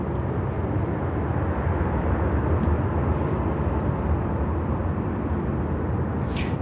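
An Airbus airliner landing on runway 9 at Miami airport gives a steady, distant broadband roar that holds at an even level throughout, with no voices.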